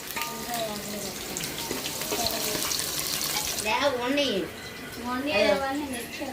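Onions and green chillies fry in hot oil, a soft steady sizzle running under a voice, with occasional stirring clatter and a faint watery hiss in the background.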